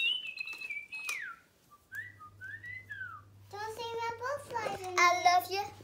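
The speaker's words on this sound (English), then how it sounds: "your bird will get happier and chirp and tweet for longer and eventually whistle a tune." A toy bird whistles a rising and falling tune in electronic tones, then a voice talks over it alongside a steady low hum.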